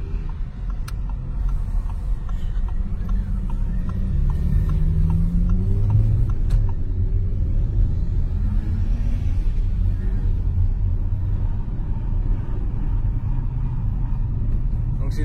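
Steady low engine rumble of an Audi RS5 on the move, heard from inside the cabin with a slight swell midway, constant and moderately loud throughout.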